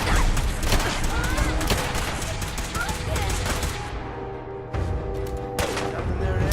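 Gunfire in the video game Fallout 4: dense, rapid bursts of automatic fire and overlapping shots in a firefight, loud and continuous, easing briefly before more shots crack out.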